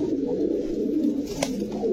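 Pigeons coo steadily in low, rolling murmurs, several birds close by, with a brief sharp click partway through.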